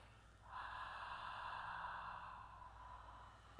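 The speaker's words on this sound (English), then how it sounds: "breathe on it with a sound. And it makes that Darth Vader sound." A single long, hissing exhale through a constricted throat, soft and close, rising then slowly fading.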